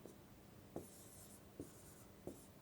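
Faint strokes of writing on a board with a scratchy, rubbing texture, several short marks spaced across a quiet background with no talk.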